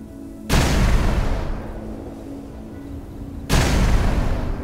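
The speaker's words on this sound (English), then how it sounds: "So let's go over to the torpedo launcher, and then we can go ahead and do a shoot once" Torpedo launcher mod in Space Engineers fires twice, each launch a sudden loud broadband blast that decays slowly into a rumbling tail, separated by about three seconds over a low steady hum.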